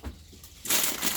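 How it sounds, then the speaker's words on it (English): Crinkly rustling starts softly, then plastic sheeting is scrunched loudly and close by, a bright crackling crush that continues to the end. "sorry about the scrunching noise"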